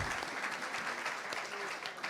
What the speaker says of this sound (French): on peut applaudir nos interlocuteurs